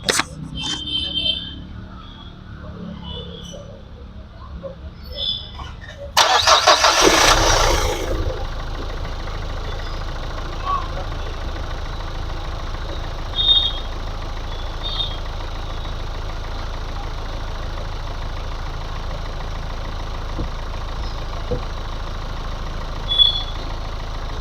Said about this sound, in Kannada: ಸೌಂಡು ಸ್ಟಾರ್ಟ್ ಮಾಡ್ತೀನಿ ಗಾಡಿ.